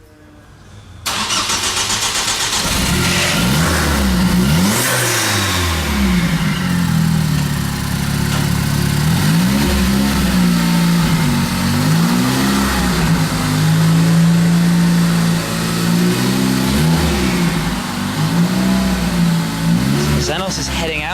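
A Zenos E10 S sports car starts up and pulls away. The mid-pitched engine revs and rises and falls through gears, loud and close for about twenty seconds, with voices talking over it.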